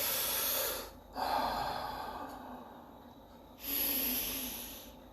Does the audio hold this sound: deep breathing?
yes